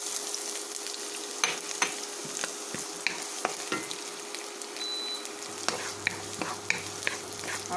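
Garlic and onions frying in hot oil for a lentil and vegetable soup, a steady close sizzle with scattered pops and crackles, alone without voices.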